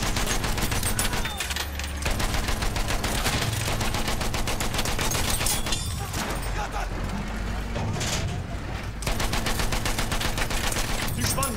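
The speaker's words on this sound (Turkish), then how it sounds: "Makinalı tüfek." Machine gun fire in the shooter game Battlefield 1, loud sustained bursts of rapid shots with short gaps, mixed with mechanical clatter and battle noise.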